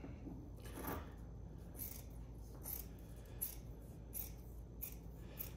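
Scissors snip through a fiberglass mat for a bathtub crack repair, a series of faint close cuts with scraping and rustling between them in a quiet room.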